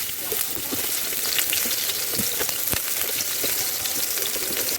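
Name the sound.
onions frying in hot oil in a pan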